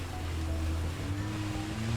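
A vehicle fords a shallow river in State of Decay 2, its engine droning low and steady beneath continuous rushing, sloshing water, with no voices.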